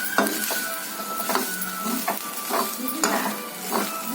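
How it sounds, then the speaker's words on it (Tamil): Vegetable fried rice with masala is stirred and tossed in a hot pan, giving a run of rhythmic scraping strokes over a soft continuous sizzle, close and alone without talk. "ரைஸ் போட்டு நல்லா மிக்ஸ் பண்ணி விட்டுக்கணும் அந்த வெஜிடபிள்ஸ் அந்த மசாலா கூட."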